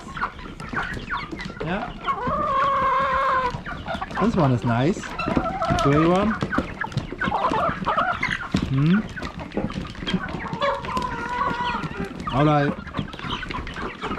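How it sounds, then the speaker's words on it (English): Farm chickens clucking and calling repeatedly in a busy, close chorus of short rhythmic clucks, with a person speaking briefly among them. "Those chickens are eating a lot."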